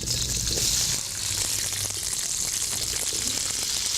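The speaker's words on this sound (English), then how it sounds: "Want to hear a little bit of sizzle." Vegetables fry in a hot pan with a steady, broad hiss and crackle, close and continuous from start to finish.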